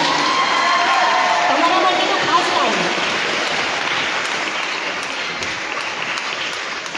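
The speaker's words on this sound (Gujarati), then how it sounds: "જોરદાર તાળીઓ થઈ જાય તમામ માટે" Loud, continuous audience applause at a ceremony honouring a mayor, a dense even patter that holds throughout and tapers slightly toward the end, with a voice faintly heard beneath it.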